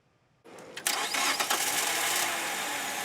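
A worn-out old car engine cranks over after a moment of quiet, a few uneven starter chugs catching into a rough, loud idle that carries on steadily, with no speech.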